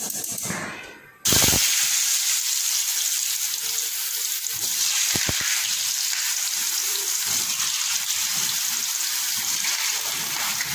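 Potatoes frying in hot oil, a steady broad sizzle that jumps up loud after a brief opening rustle and holds constant throughout, close by with no talk.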